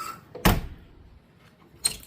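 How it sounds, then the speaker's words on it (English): The door of a 1956 Ford UK car, all original, is shut twice: a sharp nearby thump followed a moment later by a second softer clunk, with quiet interior room sound between. "shut the"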